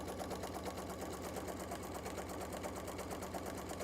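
A sewing machine stitches fabric for a tablet cover, running at a fast, even rhythm without pause, close and steady throughout.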